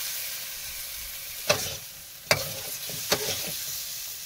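Potatoes frying in spice masala in a pan, a steady sizzle under three sharp scraping stirs spaced about a second apart, close up with no talk.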